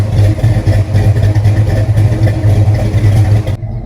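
A Foxbody Mustang with freshly welded exhaust leaks idles steadily up close, a loud, even low rumble that holds without a break before cutting off abruptly near the end.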